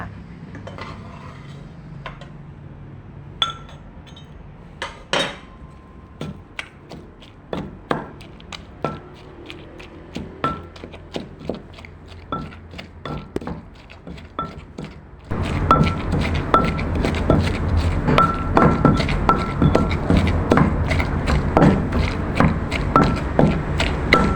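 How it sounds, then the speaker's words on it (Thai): Rough pounding of tomatoes in a mortar for Thai tam jaew chili dip, a steady run of sharp knocks and thuds that grows denser and louder partway through. "จากนั้นก็ใส่มะเขือเทศลงไปโขกหยาบๆกับพ่อค่ะ"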